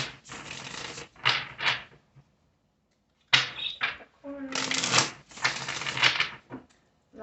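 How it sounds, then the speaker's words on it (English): Tarot cards shuffled in bursts of crisp riffling and slapping, several separate rounds with pauses between, close and fairly loud, with brief speech mixed in. "Last shuffle."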